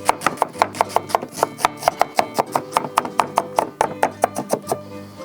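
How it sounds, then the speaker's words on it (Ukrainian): A knife finely chops onion on a cutting board, a steady run of about two dozen crisp, close knocks. "Далі цибулька. Ріжемо на 1 кг м'яса, 1 кг цибулі. Ріжемо дрібненько."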